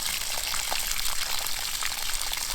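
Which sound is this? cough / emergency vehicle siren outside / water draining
water draining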